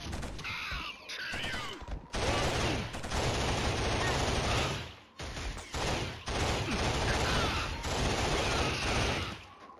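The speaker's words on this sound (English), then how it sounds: "Can't pass up the autocannon." Rapid autocannon and assorted gunfire from the first-person shooter Killzone, loud and sustained in dense bursts with brief pauses, combat sounds crowding the whole clip.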